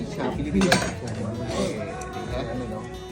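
A utensil cutting cooked beef on a plate, giving scraping clinks and light taps of metal against dishware at close range, with a voice speaking faintly beneath.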